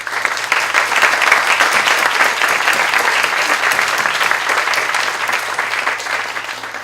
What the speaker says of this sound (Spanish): quisiera que la recibiéramos con un aplauso.